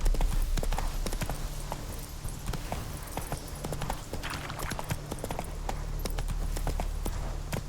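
A horse gallops in The Witcher 3, with rapid, steady hoofbeats pounding close and loud over a low rumble for the whole stretch.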